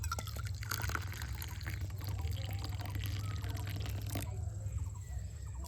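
Boiled water poured steadily into a container, a continuous liquid splash and trickle that ends abruptly, heard alone and close.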